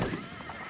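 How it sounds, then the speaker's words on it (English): Horse whinny sound effect with hoofbeats, a loud, close, bright neigh filling the short clip. "Paul Revere rode his horse in April of 1775"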